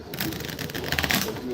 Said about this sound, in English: So this is how poker players shuffle their cards.